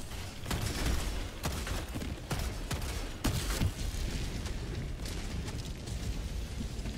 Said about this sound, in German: Ich sehe eine Explosion, ich nehme an, du hast getroffen.